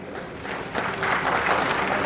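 Audience applause at a political speech in Kanpur, a broad wash of many hands clapping that swells after the first second and holds steady, fairly loud with no talk over it.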